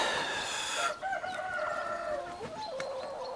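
Roosters on a farm crow in overlapping, drawn-out calls with scattered clucking around them, fairly close, loud and steady with no voices present.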